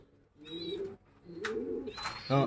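Racing pigeons at a breeder's home coo in a few close, distinct phrases, with short pauses between calls and a brief louder burst near the end.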